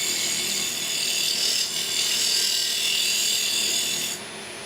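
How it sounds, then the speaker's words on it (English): A wood lathe spins fast while a tool takes light cuts on a turned wooden bowl, producing a close, steady scraping rasp that cuts off near the end. "the lathe's spinning quite fast. We're just taking light cuts"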